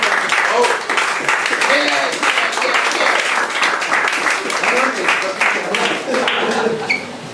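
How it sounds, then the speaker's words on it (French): A theatre audience applauds steadily and loudly throughout, dense clapping with voices and cheers mixed in, easing slightly at the very end. "les applaudis, ils sont bons"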